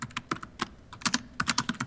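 Fast typing on a computer keyboard while adding a tag to a Pinterest pin: rapid, close, clear keystroke clicks in uneven bursts, with no talking over them.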